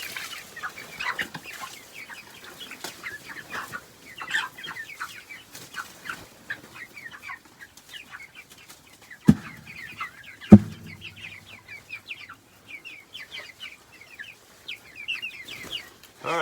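A flock of chickens clucks and chatters continuously at moderate distance, with scattered overlapping calls, a couple of sharp knocks partway through.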